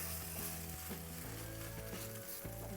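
A bitter gourd omelette fries in a pan with a steady, close sizzle. Tonal, music-like sounds run underneath the sizzle throughout.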